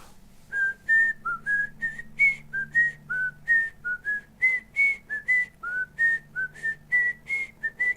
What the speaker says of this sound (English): can you whistle the opening harpsichord section? Well, it's the piano section, actually, of The Exorcist.